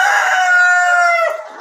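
A KUB chicken, the improved native Indonesian breed, crows once loud and near, a sustained harmonic call that holds steady then tails off into a short softer cluck at the end.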